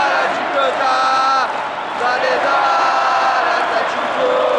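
A football video game's stadium crowd chanting and singing in unison, a dense, steady wall of many voices with sustained sung notes rising and falling, loud and continuous throughout.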